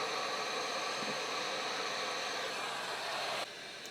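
Heat gun blowing steadily with a loud, even, hissing whoosh while shrinking heat shrink tubing on a LiPo battery pack, dropping to a quieter setting near the end.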